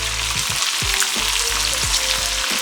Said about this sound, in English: now we're just gonna let this hot pot cook the shrimp the rest of the way